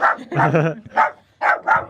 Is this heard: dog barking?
yes